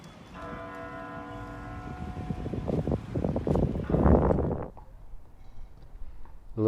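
Church bells ring out in Reykjavík, Iceland, a few sustained tones sounding for about two seconds outdoors, then fading under wind noise and city bustle.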